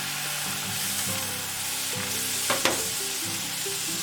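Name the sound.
stirring butter and maida flour in pan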